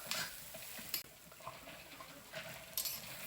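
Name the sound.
eggplant sautéing in oil in a skillet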